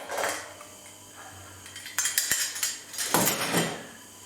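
The metal lid of a corny keg comes off with clanks and metallic clinks in two short bursts, separated by quieter handling noise.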